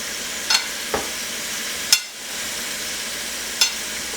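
Panko-breaded veal cutlets fry in oil for veal Parmesan, giving a steady soft sizzle broken by a few sharp clicks and taps, with no talking.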